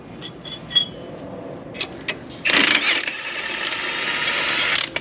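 A few sharp metallic clicks, then a sustained run of ratcheting as a wrench works bolts loose on a power harrow, close and fairly loud.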